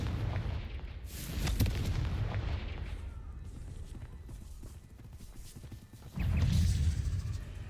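Confringo blasting spells exploding in Hogwarts Legacy, a run of heavy booming blasts and crackling impacts in a dense battle din, loud and close, with a strong burst near the end.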